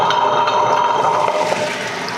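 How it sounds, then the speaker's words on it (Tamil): Soaking water poured over urad dal in a wet grinder, a steady close splashing pour that holds for about two seconds before easing off slightly at the end, with no one talking. "ஊற வச்ச தண்ணியை அப்படியே சேர்த்துருக்கேன்."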